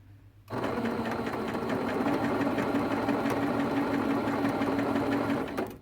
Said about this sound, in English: And stitch your 1/4 inch seam allowance.